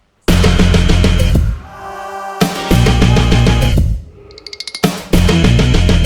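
Full band music with drums, bass and guitar, broken by a busy drum fill with rapid hits before the layered groove returns loud.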